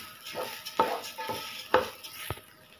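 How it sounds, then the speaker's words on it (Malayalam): Rice is stirred into sautéed onion in a hot pan for a prawn biryani: several soft spoon scrapes at an uneven pace over a faint, quiet sizzle, close by and with no voices. "സവാള ഒന്ന് വാടി വരുമ്പോഴേക്കും നമുക്ക് അരിയിട്ട് ഒന്ന് ഇളക്കി കൊടുക്കാം."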